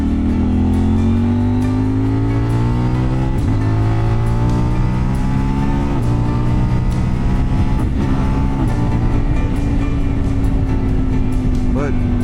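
A CFMoto Ibex 800T motorcycle, catalytic converter removed and fitted with an SC Project mid pipe, pulls hard through the gears, its loud close engine note climbing in pitch with several upshifts.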